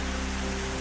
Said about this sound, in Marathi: वाशिम जिल्ह्यात जोरदार पावसाची हजेरी